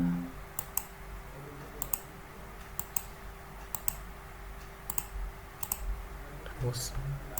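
Computer keyboard keys pressed in scattered, sharp clicks at irregular intervals, fairly quiet over a faint steady hum, with a voice talking at times.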